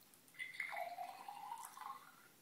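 Liquid poured into a cup makes a soft, brief trickle with a gliding watery tone that rises and falls, heard quietly and close with no talking.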